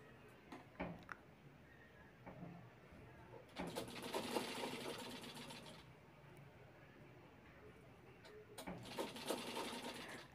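A sewing machine stitches the pleats of a lehenga in two quiet, rapid whirring runs, each a few seconds long, separated by pauses filled with soft handling clicks.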